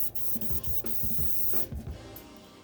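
An airbrush hisses out another coat of paint onto a Junebug-colored jerkbait fishing lure in short bursts, close and soft with faint rubbing and handling noises between sprays.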